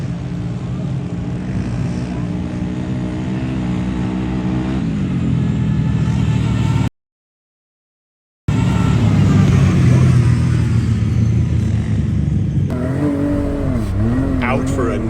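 A Can-Am 650 ATV racing in four-wheel drive on sand dunes, its engine loud and close, revving and shifting pitch, dropping out briefly, then surging back with rising and falling whines.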